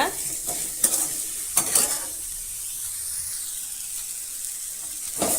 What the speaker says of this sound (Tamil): இது ஒரு பத்து செகண்ட் போல் நல்லா வதக்கி விட்டுக்கோங்க